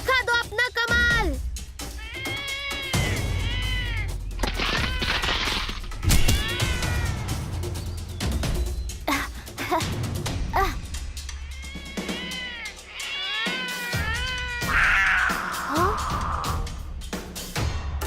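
A cartoon cat meows repeatedly in rising and falling cries, some drawn out like caterwauling, mixed with voices talking over a busy comedy soundtrack.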